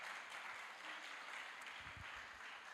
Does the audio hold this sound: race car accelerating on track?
no